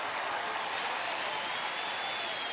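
A baseball stadium crowd at a Texas game claps and cheers in a steady, distant wash of applause, with its members on their feet throughout.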